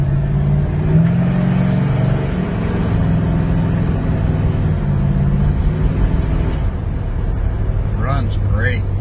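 A 1967 Plymouth GTX engine roars on a track, accelerating with a deep, loud rising growl that holds steady before easing off near the end, with faint speech-like sounds under it.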